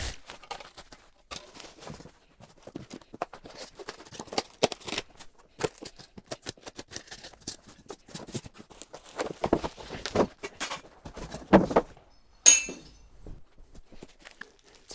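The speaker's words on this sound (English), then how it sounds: "we'll get all the parts out first because it looks like it's all wrapped up inside" Wrapped parts of a Wahoo KICKR fitness desk being unpacked, with steady rustling, shuffling and light clinks of metal pieces over about fifteen seconds, close by and moderately quiet, with a sharper clatter near the end.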